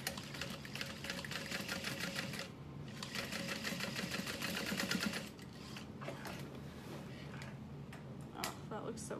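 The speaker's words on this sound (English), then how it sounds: "We're going to go to the center. And sew straight down." Sewing machine running a straight seam down the center of a bucket bag, a rapid rhythmic ticking chatter in bursts with brief pauses, fairly quiet, with a voice talking over it.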